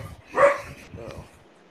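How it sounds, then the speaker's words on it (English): A dog gives a single sharp bark, close and loud, followed by a fainter, softer yelp or whimper. "sorry about the dog"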